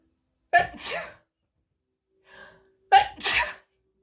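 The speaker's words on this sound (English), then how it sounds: "I have not ever sneezed on camera." Two loud, close sneezes a couple of seconds apart, each a sharp burst with a breathy tail, with a faint short sound between them.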